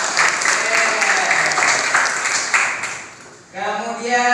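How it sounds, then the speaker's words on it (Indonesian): Classroom students clapping together, a brief rhythmic burst of hand claps that fades out, followed by a voice speaking. "Iya, tepuk tangan."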